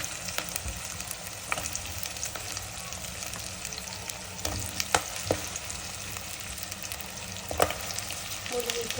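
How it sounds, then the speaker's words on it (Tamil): Onions frying in a pan for sambar, a continuous moderate sizzle broken by occasional sharp clicks and scrapes of stirring, without any talking. "தேவையான வெங்காயம் நம்ம போட்டுக்கலாம். நல்லா வறுத்து எடுக்க"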